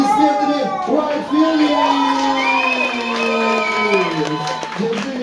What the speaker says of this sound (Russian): Давайте встретим аплодисментами Вайт